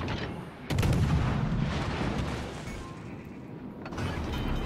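Naval gunfire in World of Warships Legends, with a destroyer trading fire against the Akatsuki: a dense, rumbling battle roar with a heavy boom near the start and a continuous low rumble that carries on steadily to the end.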